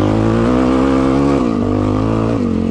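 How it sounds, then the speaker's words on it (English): A Suzuki DRZ 400 dirt bike revs and pulls hard while being ridden, its loud close engine tone holding steady and then dipping twice as it shifts, with no talk. "also just going to rip down this on the DRZ 400, which, oh my goodness, this bike is phenomenal"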